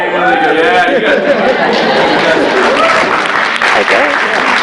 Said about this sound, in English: Oh, that's fantastic applause, I hope.